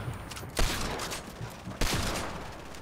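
Video game gunfire, two sharp loud shots about a second apart over a continuous rumble of distant shooting.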